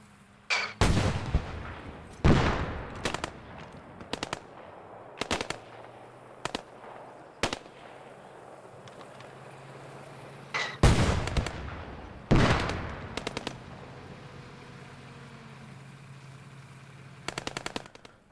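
Rifle gunfire in the game Post Scriptum: scattered sharp single shots, some loud and close, others fainter and distant, spaced irregularly over a quiet battlefield background with no talk.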